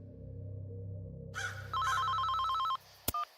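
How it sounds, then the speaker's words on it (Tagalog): A cellphone rings after a quiet low hum, a bright warbling electronic trill sounding for about a second, breaking off and then chirping briefly again, close and clear with no voices. "Pagdilat ko palang tumunog na ang cellphone ko."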